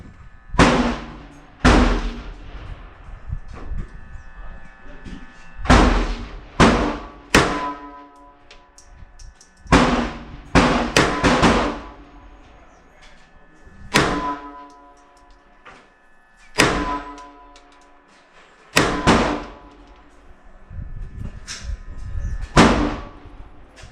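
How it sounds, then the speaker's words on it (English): Pistol shots from a Beretta 80X Cheetah at a shooting range ring out in sharp, loud reports, about ten in all, fired in separated groups with short pauses between and no talking. "Now 5 shots left-handed, 5 shots right-handed."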